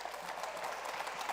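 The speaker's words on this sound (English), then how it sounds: "I would like to ask the audience to give a big round of applause to everyone" A conference audience applauds at the close of a panel, a short, faint and steady patter of many hands with no distinct individual claps.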